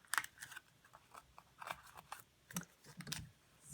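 Scissors snipping through paper for a mask, a series of quiet, close crisp cuts in an irregular rhythm, about a dozen short strokes with small pauses between them.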